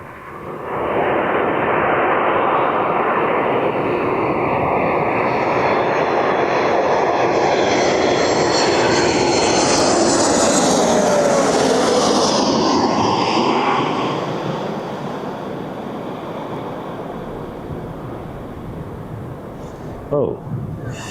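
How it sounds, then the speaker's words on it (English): A Ryanair Boeing 737 jet roars loudly at East Midlands Airport, a broad, powerful engine rush that builds, holds for about fourteen seconds and then eases to a lower steady whine, with a voice briefly heard near the end. "All right, here's that Ryanair 737."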